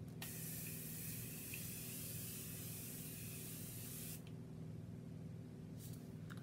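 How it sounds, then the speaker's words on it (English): A One/Size beauty setting spray hisses in one steady, continuous mist burst lasting several seconds, close and clear, followed by quiet. "I'm going to spray this on."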